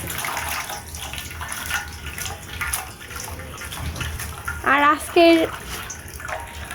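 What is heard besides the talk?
pouring cold water over boiled ramen noodles in strainer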